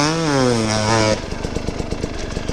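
A Moto Guzzi motorcycle on an enduro ride, its engine revving high with a rising and falling whine for about a second, then dropping to a lumpy, pulsing low idle chug close by.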